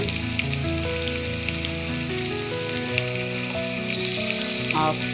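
Vegetables seasoned with turmeric and salt sizzle steadily in a pan, a continuous close frying hiss with occasional scrapes of stirring, and no voices over it.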